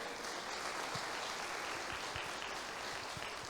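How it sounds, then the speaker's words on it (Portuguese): Congregation applauding God during a Portuguese-language church service, a steady, fairly faint wash of many hands clapping continuously for several seconds with no voices over it. "Pode dar um aplauso a Ele"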